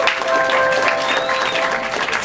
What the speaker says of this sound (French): Applaudissements pour la reine Xenia.